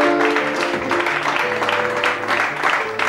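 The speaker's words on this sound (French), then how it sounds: "On l'applaudit." Studio audience applauding on a French TV variety show, a dense sustained clapping throughout with a voice faintly underneath.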